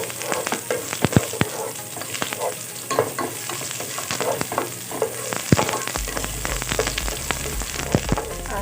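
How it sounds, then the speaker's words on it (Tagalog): Ginger and garlic sauté in a pan with a bright, crackly sizzle and repeated stirring scrapes. A lower rumble joins in partway through, and no one talks. "So, mag-start na tayong maggisa. So, maglalagay ako ng luya. At isabay na rin natin itong bawang."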